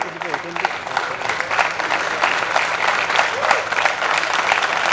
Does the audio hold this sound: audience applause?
yes